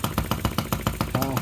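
A miniature OKMO 1110 replica of a 1950s Japanese engine runs at full throttle, a fast, even chug of sharp beats about six per second, close and clear, with someone speaking briefly at the end.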